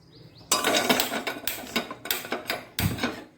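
A metal steamer pot is set down and adjusted on a kitchen stovetop while a bottle gourd dish is cooked: a burst of clanking metal followed by a series of sharp knocks and rattles, closely miked with no talking.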